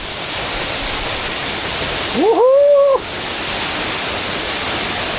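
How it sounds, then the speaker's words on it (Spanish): Water falls steadily into hot spring pools in Colombia, a loud, continuous rushing hiss, while a person gives a brief excited whoop midway. "Fijaos cómo cae el agua aquí."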